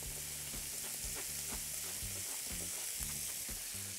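Onion frying in a pan gives a dense steady sizzle, with a rhythmic low pulsing tone and short clicks running beneath it throughout, with no speech.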